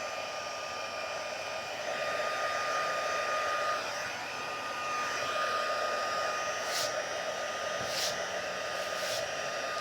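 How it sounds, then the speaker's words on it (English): A heat gun blows hot air with a continuous loud whooshing roar and a steady whine, close by and unchanging throughout, with a few faint taps near the end. "So I'm going to turn my heat gun on."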